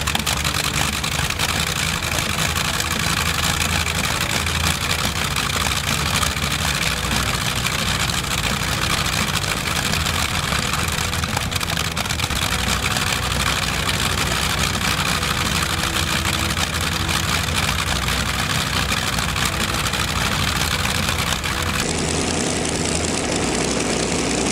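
An 18-cylinder radial aircraft piston engine of about 3,000 horsepower, as used in the Hawker Sea Fury, runs loudly and steadily with a deep, rough throb and no break.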